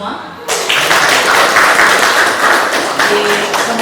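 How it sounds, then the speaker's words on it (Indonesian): Participants at a school chemistry practicum on separating mixtures break into sudden loud, close group applause that keeps up as a dense, even patter, with voices mixed in. "Tepuk tangan kita semua."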